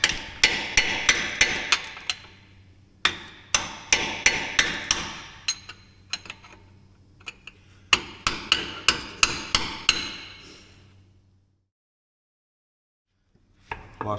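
A 3/4-inch impact wrench fitted with a 105 mm socket hammers at axle hub bolts, loud rapid rattling bursts of blows in repeated runs separated by short pauses, then near silence and a final short burst.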